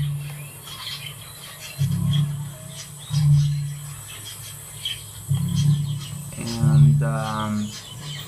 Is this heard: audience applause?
no